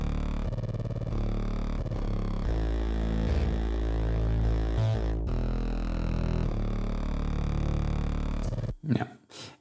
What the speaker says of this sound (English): instead of just having the straight note, we're doing this broken bass kind of thing